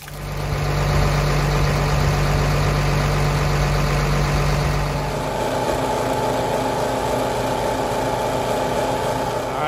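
A diesel tractor engine idles steadily nearby with a low, even rumble that shifts slightly in tone halfway through; no voices.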